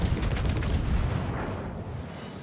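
Naval guns firing a sequential salvo in the World of Warships game, heard as a loud, dense, rumbling boom that slowly fades within a couple of seconds.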